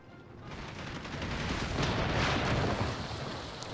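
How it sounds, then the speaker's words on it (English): Howitzer artillery in a strategy game, a rumbling, continuous roar of shots and impacts swelling to a peak and then easing off, with no voices. "So here comes my howitzer shots."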